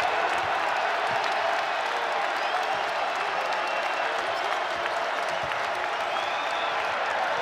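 A basketball crowd at Iowa's home arena rises to its feet against Rutgers, roaring and cheering in a steady, dense wall of noise with scattered clapping and whoops throughout.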